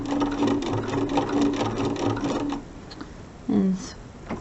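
A sewing machine stitches down quilt binding on a mini quilt, steady rapid whirring for about two and a half seconds, then stopping, followed by a short louder mechanical burst near the end.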